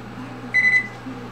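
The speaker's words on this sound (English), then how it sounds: "Let's see if I can set the timer for 16 minutes." A kitchen oven timer being set gives a single short electronic beep lasting about a quarter second, close and clear over a low background hum.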